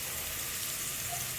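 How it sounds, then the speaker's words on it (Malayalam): Chopped onions sautéing in oil in a pan while cooking beef biryani give off a soft, even sizzle, steady and close, a brief continuous crackle with no voices. "അപ്പോൾ ഇതൊന്ന് നമുക്ക് നല്ലോണം ഒന്ന് വഴറ്റിയെടുക്കാം."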